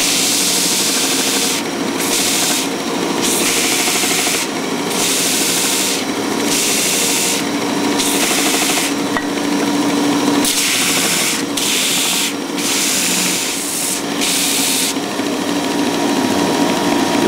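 A belt sander grinding across wood, a loud continuous abrasive rasp with a motor hum underneath and brief rhythmic dips as the tool moves in and out, close and without talk.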